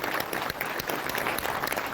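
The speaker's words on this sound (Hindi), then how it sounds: "उसके लिए जोरदार ताली" A hall audience at a political party conference in Narmadapuram breaks into loud, dense applause, a continuous burst of clapping that fills the short moment without pause.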